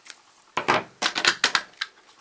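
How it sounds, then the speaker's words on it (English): Craft and paper scissors snipping paper for a die-cut card, a series of sharp crisp cuts in quick uneven clusters, close and clear over a quiet room. "Then I'm going to use my craft and paper scissors."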